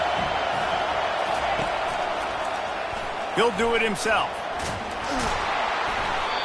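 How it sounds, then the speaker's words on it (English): Football stadium crowd roaring steadily throughout a game, a dense continuous wash of noise with a few brief louder swells, while a commentator talks over it. "This crowd bringing the energy and noise early."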